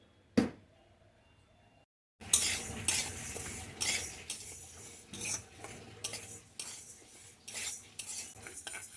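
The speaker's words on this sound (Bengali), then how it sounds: "এটা অনেকক্ষণ ধরে ভাজছি" Mung dal fries in a pan under a soft sizzle while a spatula scrapes and knocks against the metal in repeated close strokes, following a single knock and a near-silent pause.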